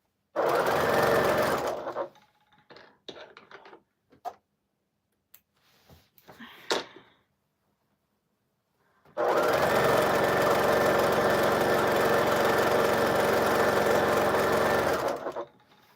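Close sewing machine stitching a quilt, a steady whirring run of about two seconds, a gap filled with clicks and small handling sounds, then a longer continuous buzzing stretch.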